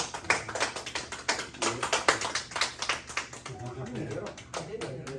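Scattered clapping from a small group at a book launch event, uneven and lively for several seconds before thinning out at the end.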